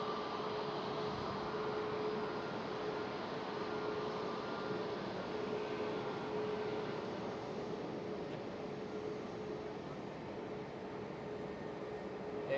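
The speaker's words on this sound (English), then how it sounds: "There goes the A321 Neo off the KLM." KLM Airbus A321neo taking off at Schiphol Amsterdam, a faint, distant and steady engine rumble with a sustained tonal hum, slowly fading toward the end, no voices.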